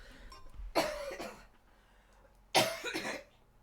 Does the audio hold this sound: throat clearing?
yes